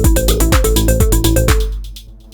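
An Elektron Syntakt drum machine plays a punchy, loud pattern of kick hits and quick percussive notes at a steady fast pulse, then it stops and a tail rings out and fades.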